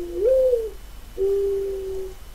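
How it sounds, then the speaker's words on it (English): A bird in a video game gives two clear dove-like coos, the first rising and the second a longer held tone, loud and close against a quiet background. "you sound more like a dove than a pigeon"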